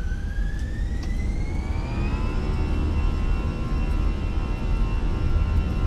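A320 jet engines spooling up on the takeoff roll in a flight simulator, a loud steady roar with rising whining tones that climb and then hold, no talking.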